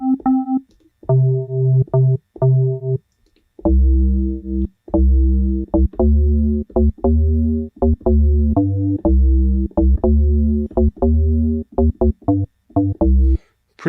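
FM synthesizer bass patch with a sharp attack and heavy low end, playing short repeated notes in a bouncy sequence, loud and clean with slight tonal motion, no talk over it.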